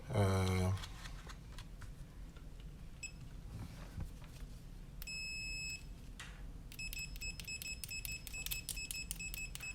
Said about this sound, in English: Fluke have a reputation of having a nice buzzer, latching, and it has a quick continuity feature